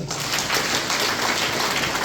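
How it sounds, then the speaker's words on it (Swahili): An audience claps together in a thick, steady wash of applause, loud and continuous throughout with no voices on top. "Haujapiga makofi."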